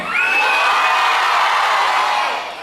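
A team of young people shout their cheer together, a loud sustained group yell with rising whoops, close and bright, then tapering off at the end.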